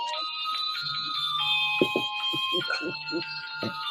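Phone ringtone playing the Hershey Kisses jingle rings out in steady electronic tones, with people talking over it at moderate volume.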